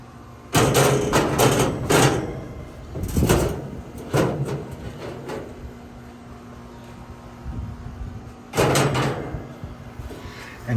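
Grease catch parts are pulled out from inside a Masterbuilt Gravity Series 1050 grill. Loud metallic clanks, scrapes and sliding rattles come in several close bursts, separated by quieter gaps.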